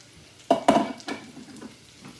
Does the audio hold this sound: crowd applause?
no